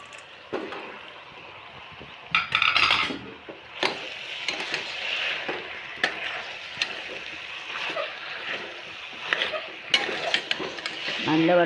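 Washed mutton tipped into a pan of softened shallots, onion, green chilli, ginger, garlic and curry leaves and stirred, with close clinks and scrapes of a spoon against the pan and a soft wet sizzle under a person talking.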